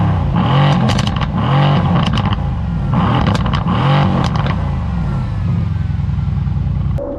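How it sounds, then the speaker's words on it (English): A sports car engine, a C63 AMG or M2 Competition, idles with a deep rumble and is revved several times in rhythmic surges, rising and falling, loud and close throughout. "I'm gonna turn on my car. I'm gonna show you guys what it sounds like. I'm gonna rev it a few"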